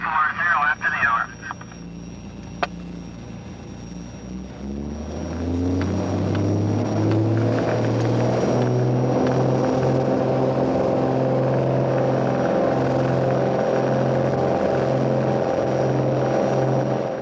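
A propeller-driven airplane rolling for takeoff on runway 21 at Fort Nelson: engine drone builds from a low rumble into a loud, steady roar, heard up close and continuous.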